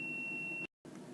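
A laundry machine signals the end of its cycle with a steady, high electronic tone held for over half a second before cutting off, leaving a quiet indoor room.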